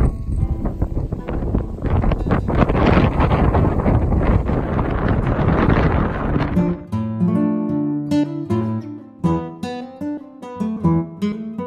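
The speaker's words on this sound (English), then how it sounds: "it's crazy windy here." Strong gusting wind near the cathedral by the marina in Mallorca buffets the microphone as a loud, continuous roar for about seven seconds, then gives way to music.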